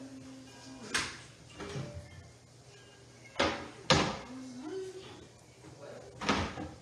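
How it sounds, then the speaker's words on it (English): Several dull thumps of a door being shut and handled, close by, while people talk quietly in the background. "Close that door before flies come over here."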